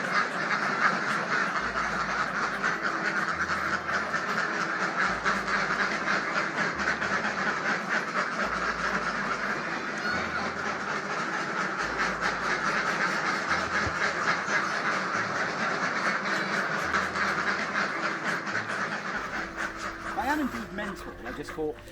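A person imitates a duck with repeated nasal quacks in short bursts, fairly close and loud, over steady background noise.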